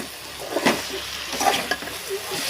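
Soft sizzling of tomatoes frying in a pan, with a few stirring scrapes and light spatters over a steady hiss.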